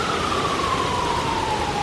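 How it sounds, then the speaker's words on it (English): Emergency vehicle sirens wail in the distance during Hurricane Irma, the tone slowly falling, over a steady wash of background noise. "And now there's lots of sirens."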